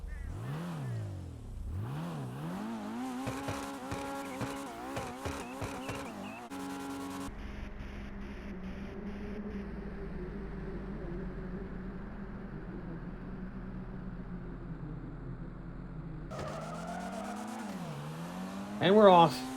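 A mid-engine Toundra Panthere sports car in GTA 5 revs hard through rising gear shifts, settles into a steady engine drone while turning, then accelerates again with climbing pitch.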